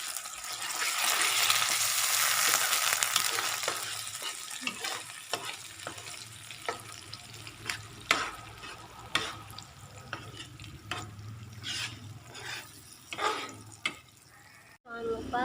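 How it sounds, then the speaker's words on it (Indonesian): Sauce for a tempeh mushroom steak hisses loudly as it is stir-fried, the sizzle easing after the first seconds while a spatula scrapes and taps the pan in an irregular rhythm, close up. "Kemudian kita tumis."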